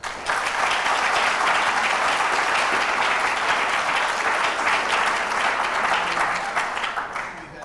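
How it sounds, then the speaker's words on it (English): Polite audience applause for candidates at a congressional district debate, a full, even crowd clapping that starts abruptly, holds steady for several seconds and fades out near the end, without speech. "Nice, polite applause for each of our candidates."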